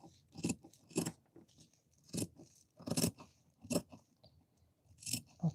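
Scissors cutting paper sewing pattern pieces for a Vogue V1870 garment, a series of crisp, close snips in irregular bursts with brief pauses between cuts.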